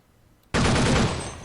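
A burst of gunfire from the video game CS:GO starts abruptly and loudly, a dense rapid stream of shots lasting about a second with no voices over it.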